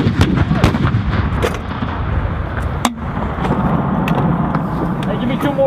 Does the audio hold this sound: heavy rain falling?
no